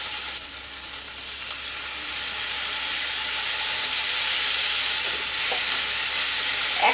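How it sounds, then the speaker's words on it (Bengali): Masala for shahi paneer sizzling after a splash of water goes in, a loud steady hiss that swells and steams, with faint scrapes of stirring toward the end and no talk. "সামান্য একটু জল দেব, দিয়ে খুব ভালো করে আমি কষিয়ে নেব।"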